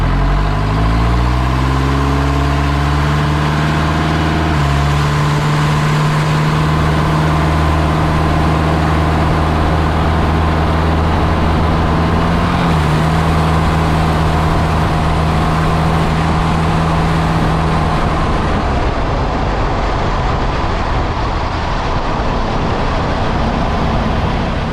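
A 2006 truck fitted with Core4x4 Tier 1 adjustable rear control arms drives on a test run, picked up close to the drive shaft. Loud engine and drivetrain drone rises and falls through gear changes, with road rumble and no talking.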